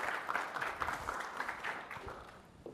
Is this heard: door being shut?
no